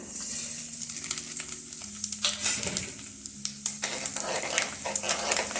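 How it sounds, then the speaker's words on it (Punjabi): Dry spices crackle and sizzle steadily in hot mustard oil in a kadai, a close, continuous frying hiss with small pops and a few stirring scrapes, with no talking. "ਹੁਣ ਆਪਾਂ ਸੁੱਕੇ ਮਸਾਲੇ ਪਾ ਦੇਵਾਂਗੇ"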